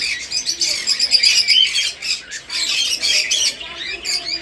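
Caged pet birds at a bird market, among them parakeets, cockatiels, lovebirds and conures, squawk in harsh, repeated loud bursts close by, with brief dips between calls and no clear talking.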